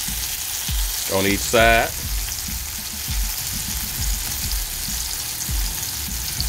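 Salmon fillets fry in a hot pan for a jerk mango salmon bowl, a steady close sizzle with scattered soft taps, while someone speaks briefly near the start.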